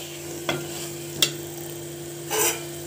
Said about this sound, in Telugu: ఎగ్స్ వేసేసి ఒకసారి 2 మినిట్స్ కలిపేసి